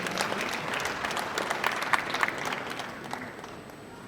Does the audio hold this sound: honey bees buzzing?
no